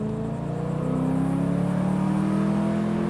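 A 2002 Ford Thunderbird engine hums and rises steadily while driving, heard from inside the car as a smooth, continuous climbing drone with no talk.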